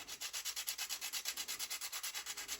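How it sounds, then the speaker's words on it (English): Rapid rhythmic sanding, a sandpaper disc scraping back and forth in quick even strokes on a Stihl clutch cover, close and alone. "Sanded it down a little bit."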